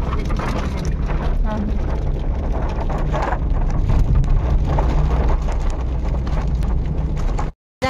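Heavy rain pours down steadily and loudly at close range, a dense continuous wash with scattered drips and pattering, while faint voices murmur beneath it before it cuts off abruptly near the end.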